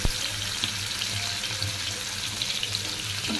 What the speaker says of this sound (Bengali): এবার বেরেস্তা করে তুলে নেওয়ার পর ওই তেলের মধ্যেই দিয়ে দিলাম স্লাইস করা পেঁয়াজ